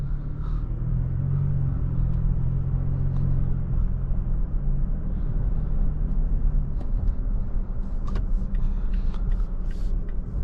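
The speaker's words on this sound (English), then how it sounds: "Let's see how this Tacoma drives." A 2023 Toyota Tacoma TRD Pro pickup on the move gives a steady, loud low engine rumble mixed with road noise, continuous for the whole stretch with no talking.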